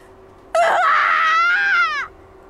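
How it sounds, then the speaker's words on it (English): A Fatal Twelve character lets out one loud, rabid scream lasting about a second and a half, alone against a quiet background. "He cuts me off with a rabid scream."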